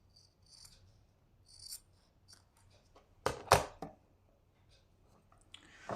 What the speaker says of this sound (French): Alors, mes ciseaux.